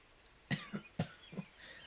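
Four short, harsh coughs in two quick pairs, close and fairly loud, with quiet pauses between them and no talking.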